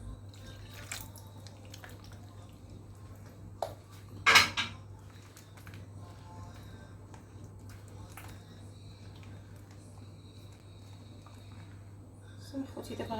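Almond biscuit dough being stirred with oil in a bowl, with soft scraping and light clinks of utensil against the bowl, one sharper clatter partway through, over a steady low hum and faint background voice.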